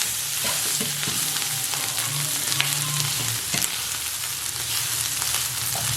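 Frying in a pan while making a tomato cheese pizza, a continuous close sizzle with scraping and stirring clatter and occasional sharp taps, with no one speaking.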